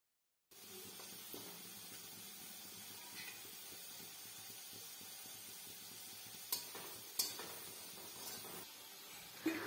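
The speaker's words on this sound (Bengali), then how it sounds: "দিয়ে দিচ্ছি ডুমো ডুমো করে কাটা আলু। আলুটা আমি লাল লাল করে ভেজে নেব।" Diced potatoes seasoned with turmeric and salt fry in oil for a Bengali jackfruit-and-prawn dish, giving a steady, even sizzle and hiss throughout, with a few sharp clinks near the end.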